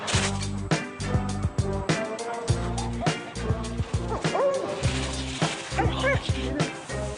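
Dogs bark and yip repeatedly at close range during a dog adoption demonstration, with some whimpering mixed in, over a busy background with scattered voices.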